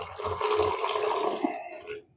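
Water poured into a pot of amla (nellikkai) rasam with salt and turmeric, a steady splashing, gurgling pour lasting about two seconds at close range, tapering off at the end.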